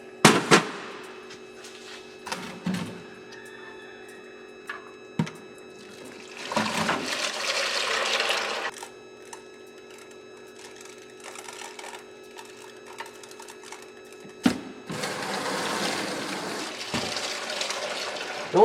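Motor oil drains from a warm engine into a pail, with intermittent gushing and splashing bursts between quieter trickling stretches and a few sharp knocks.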